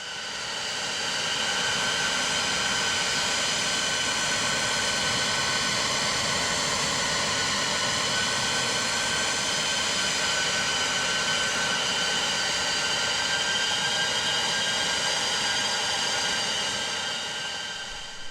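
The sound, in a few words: aircraft engine throttling back on descent, X-Plane 11 video game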